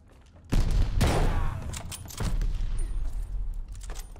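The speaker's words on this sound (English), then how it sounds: "Let's try another grenade down here" Grenade blasts in Call of Duty Vanguard's sniping campaign mission: two loud, booming explosions, each followed by rumbling, crackling debris that fills the rest of the moment.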